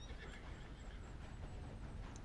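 A horse whinnies in the Red Dead Redemption video game, a clear, drawn-out neigh over steady in-game ambience with no speech.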